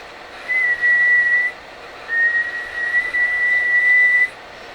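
A person whistles a single high pitch, holding it in two long stretches separated by a brief gap, clear against faint background noise.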